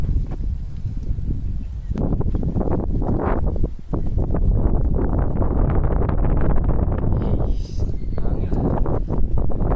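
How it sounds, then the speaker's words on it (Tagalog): Cold wind buffeting a microphone outdoors near a school, a steady roaring rumble that fills the whole stretch, with voices chattering underneath. "Malamig na hangin."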